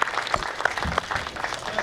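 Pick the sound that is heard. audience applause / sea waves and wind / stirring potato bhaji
audience applause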